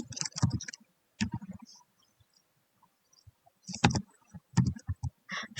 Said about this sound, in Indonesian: Langsung saja kita ketik di sini